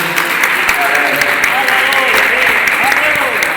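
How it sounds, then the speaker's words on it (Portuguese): A church congregation applauds during an evening service, keeping up a continuous, lively clapping with voices mixed in. "Bíblia aberta com uma salva de palmas ao Senhor Jesus."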